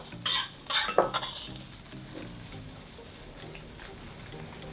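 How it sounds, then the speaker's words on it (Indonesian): Dried shrimp (ebi) fry in oil until crisp, with a few scraping stirs in the first second or so, then a steady, close sizzle continues alone with no talking. "Ebinya kita goreng sampai garing sekali ya."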